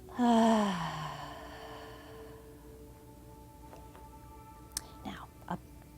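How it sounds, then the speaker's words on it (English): A slow, audible breath drawn in and pushed out during a children's mindful movement exercise, one long, fairly loud exhale fading over about two seconds, followed by quiet room tone with a few faint clicks. "Breathe in and breathe out. You can even make that sound."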